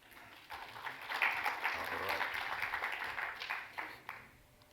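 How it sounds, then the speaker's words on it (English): Audience at a tech investment panel gives a round of applause, moderate clapping swelling and then tapering over several seconds, heard from a distance with some voices mixed in. "can we give him a round of applause"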